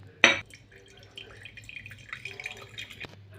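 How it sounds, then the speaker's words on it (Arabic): Water is poured into a jug of juice that has pieces of ice in it. A sharp clink opens, then comes a thin, trickling stream of liquid running for a couple of seconds, close and moderately quiet. "فهنزود ميه شويه"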